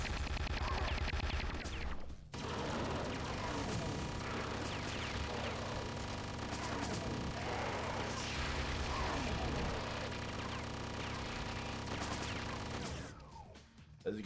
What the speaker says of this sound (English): Now the chain gun, we're gonna use it.